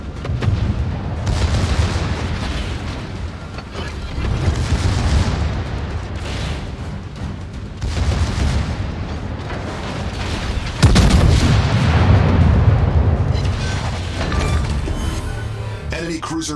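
Battleship main guns fire in the naval combat game World of Warships, heavy booms and blasts with rumbling aftermath over continuous battle noise, while a player's voice talks over the action.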